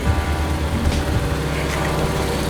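A car's air suspension airs up with a steady, fairly loud mechanical whir and hiss lasting the whole few seconds, heard close with no talking.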